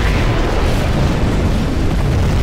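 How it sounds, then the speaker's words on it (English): A nuclear missile detonates in the video game Command & Conquer Generals Zero Hour as one loud, continuous, rumbling roar of explosion, dense and sustained the whole way through. "We have launched our nuclear missile."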